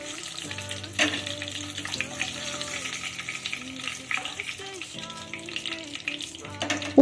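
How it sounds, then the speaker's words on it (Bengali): Eggs frying in hot oil with a light turmeric coating, a steady sizzle running throughout alongside spatula scrapes and a few clinks, close and moderately loud, with background music and no speech. "দেখো ডিমগুলোকে হালকা লাল করে ভেজে তুলে নিচ্ছি"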